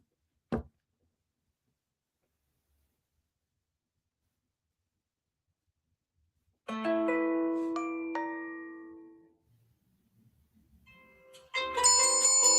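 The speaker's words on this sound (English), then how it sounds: "my phone wasn't on vibrate, so like I had text come in and then another thing notification" A phone's text message alert and then a second notification tone, a short tick followed later by a sustained ringing chime that slowly fades and then a brighter jingle near the end, with no talking.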